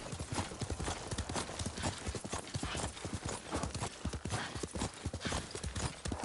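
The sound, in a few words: horse hoofbeats and neighing in a video game (Ghost of Tsushima)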